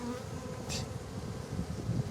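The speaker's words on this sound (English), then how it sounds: "These are bees from the other hive." Honey bees from another hive rob a hive, a dense, close, continuous buzzing of many bees with one brief louder whir as a bee passes near.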